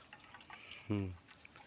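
Water splashing over a toy car during a children's car-washing play session, one short gush and trickle heard under a child's and adult's quiet voices.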